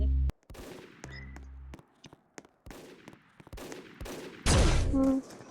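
Rapid gunfire bursts from a Roblox first-person shooter game, sharp shots and short volleys scattered across the clip with gaps between, ending in a loud sustained burst.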